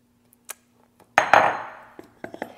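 Chopped peaches and nectarines tipped into a mixing bowl: a few light clinks, then a louder clatter and rustling tumble of fruit pieces, followed by scattered small knocks of a utensil against the bowl, no talking.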